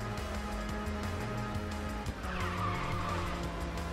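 Car drifting through a corner in the racing video game Ridge Racer 6, with a steady engine drone and a tire squeal rising partway through, all continuous and fairly loud, with no talking.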